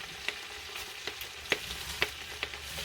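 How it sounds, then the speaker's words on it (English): Greens for menestra, a beans-and-greens dish, fry softly in a pan while being stirred, with a low continuous sizzle broken by several sharp scraping clicks of the utensil against the pan. "You want to try to just stir it nice and easy."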